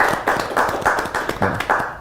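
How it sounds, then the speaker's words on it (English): A studio audience and panel at an evening youth talk show on parents and associations preventing drug addiction clap together in a steady, rhythmic beat of distinct claps, close and moderately loud. "Can we clap for ourselves?"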